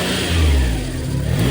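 A car engine revved hard and close, a loud low roar that rises and holds for a moment, with no voices.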